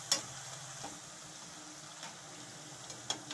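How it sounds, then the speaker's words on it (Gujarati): Soft, steady sizzle of potato-tomato mathadi snacks deep frying in hot oil over low heat, with a few faint clicks and taps of utensils scattered through; no voices. "આ રીતે બધી આપણે તળી લેવું"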